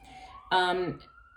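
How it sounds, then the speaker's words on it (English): A distant siren wails in a steady rising tone, briefly overlapped by a short burst of someone speaking. "Sorry for the sirens going by."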